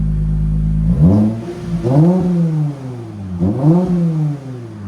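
2023 Lexus IS 350 with a 3.5L V6 and Flowmaster Flow FX exhaust, idling low then revved three times in quick rising-and-falling bursts, loud and close.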